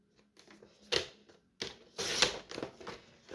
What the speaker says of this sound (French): Je vais peut-être lui donner un tout petit coup de massicot.